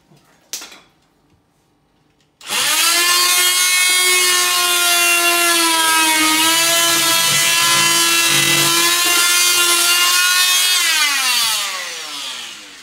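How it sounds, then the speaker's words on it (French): A power drill bores into a plasterboard partition wall, a loud steady whine that starts suddenly after a brief knock and runs for about ten seconds before easing off. "On va percer."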